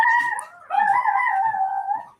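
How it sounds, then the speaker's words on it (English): A dog howls and yelps in two long wavering cries, near and fairly loud, with no talk over it. "who's kicking the dog?"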